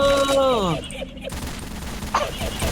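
Gunfire from the co-op video game Left 4 Dead 2 comes as a rapid burst of shots under dense in-game noise, mixed with tonal game sounds at the start and players talking over it.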